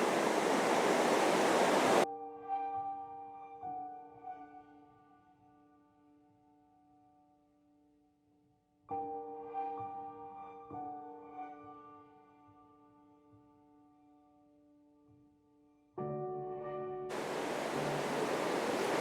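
A river waterfall at The Hermitage in Dunkeld, Scotland, gives a steady broadband rushing hiss at the start and end, with tonal music filling the stretch between.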